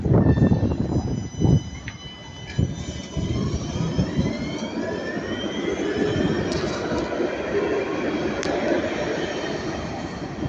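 Tram on line 3 at Magnan in Nice, a steady broadband rumble and hum of rail vehicle running throughout at moderate distance, with faint squealing tones and a few brief clanks, no talking.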